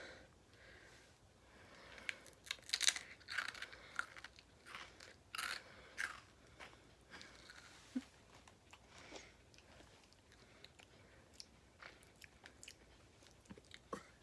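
Crunchy cereal is chewed close to the mic in bursts of sharp bites and crackling crunches, with quieter pauses and occasional sniffs between mouthfuls.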